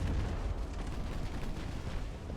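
Warship guns firing in the naval battle game Ultimate Admiral: Dreadnoughts, heard as a dense, continuous low rumble of overlapping heavy booms that stays loud through the whole stretch.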